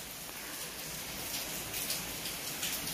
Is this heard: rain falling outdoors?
yes